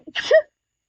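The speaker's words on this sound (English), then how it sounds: "Sorry, I had to sneeze." A single sneeze from one person, close and abrupt, lasting under half a second and followed by silence.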